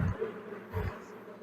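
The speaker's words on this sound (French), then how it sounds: "Donc on enlève le maximum d'abeilles." Honeybees buzz in a dense, close swarm as they are brushed off a hive frame, a steady droning hum with two louder low swells.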